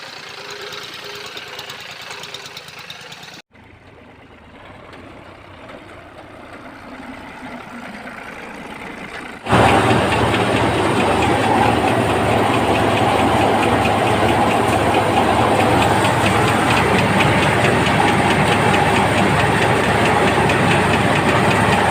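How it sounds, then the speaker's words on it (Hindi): A tractor engine runs steadily while reversing, a loud, close, rough mechanical drone that drops off briefly before surging back and holding at full volume. "अब उस ट्रैक्टर को घुमा के अंदर ले जाना है"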